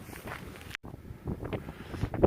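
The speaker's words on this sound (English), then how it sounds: "Sorry about the wind." Wind blowing across the microphone on Dartmoor, buffeting in low rumbling gusts with a brief dropout, moderately loud and close, with faint rustling underneath.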